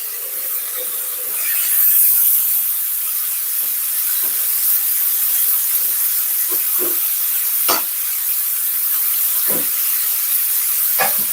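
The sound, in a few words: steam hissing as it is let out of a cooking pot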